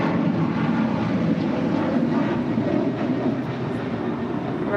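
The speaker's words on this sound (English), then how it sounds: "United Airlines Flight 352 departing to Washington Dulles on a 737-900 ER." A United Airlines Boeing 737-900ER takes off at LAX, a dense, sustained jet roar heavy in the low end that holds steady and close for the whole stretch, with no voices.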